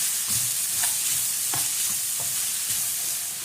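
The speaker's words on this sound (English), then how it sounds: "And once again, give it a good mix." Restaurant-style fried rice seasoned with black pepper being stirred in a hot pan: an even sizzle with repeated scraping strokes of the spatula, close and fairly loud, no voices.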